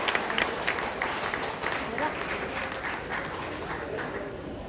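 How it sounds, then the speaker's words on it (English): A round of applause for golfers at an amateur golf tournament prize presentation in southern India, steady dense clapping from a seated crowd that holds for several seconds with faint voices mixed in. "Can we have a bigger round of applause for all of them, golfers?"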